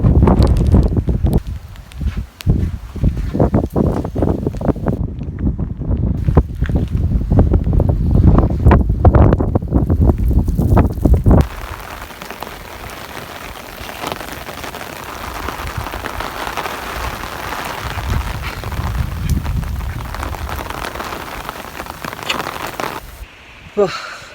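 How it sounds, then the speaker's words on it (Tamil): Heavy rain pours in the fog-covered hills at Kelebokka, a loud hiss of downpour with wind buffeting the microphone, heaviest in the first half and then easing to a steadier wash; a voice speaks briefly. "வெளியில் போயலாம் செம்ம மழை"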